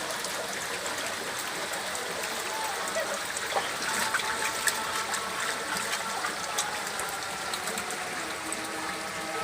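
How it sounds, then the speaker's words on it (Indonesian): Clear water trickling along the floor of Goa Surowono cave, about 50 cm high, a continuous close babbling flow with small splashes and drips. "Air jernih yang mengalir gemericik di dasar gua dengan ketinggian sekitar 50 cm"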